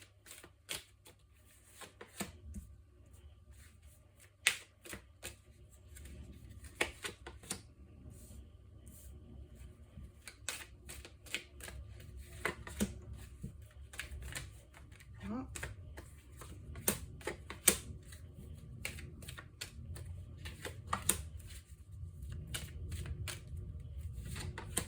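Tarot cards shuffled for a nine-card spread, giving a run of crisp riffling and flicking bursts, some sharp and close, over a low background rumble that lasts throughout.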